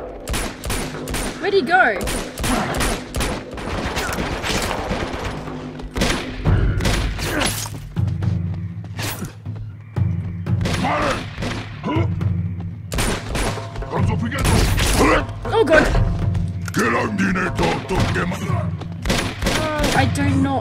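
Dense gunfire from Uncharted 2: Among Thieves, with bursts, heavy thuds and shattering impacts layered under shouted dialogue, loud and close throughout.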